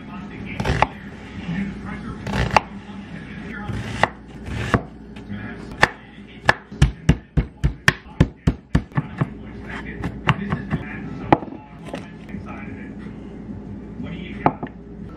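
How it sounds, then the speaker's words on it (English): A knife chops half an onion and two garlic cloves on a cutting board, with irregular sharp close knocks that speed into a quick rapid run midway, then slow again, while a person talks in the background. "we're chopping up half of an onion and 2 cloves of garlic."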